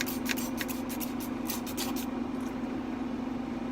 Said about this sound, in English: so I'm gonna spray that out.